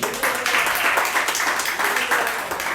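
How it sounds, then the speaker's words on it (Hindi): Audience at a Hindi poetry recital breaks into steady, close clapping that runs throughout the short stretch without any break. "एक बार आप सभी लोग तालियां बजा दीजिए।"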